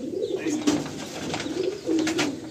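Pigeons in a Kolkata loft up for sale coo nearby in soft, repeated throaty rolls that overlap one another, with no talking.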